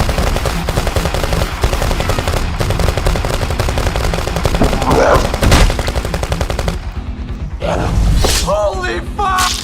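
Rapid bursts of animated gunfire from a countryballs cartoon, loud and sustained over a dense soundtrack, with cartoon voices shouting in the latter part.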